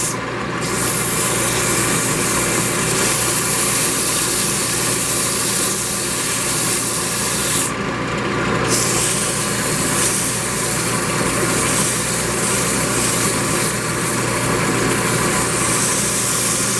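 A dust extractor roars loudly and continuously beside a woodturning lathe while a spalted pecan vase is sanded, its dense whooshing drone steady throughout with two brief dips in the high hiss.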